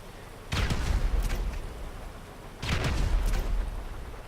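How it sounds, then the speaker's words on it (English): Two rapid bursts from the grenade launcher turret of a Khanjali tank in GTA 5, each a rumbling volley of muffled booms lasting about a second, spaced roughly two seconds apart. "And this controls the grenade launcher turret."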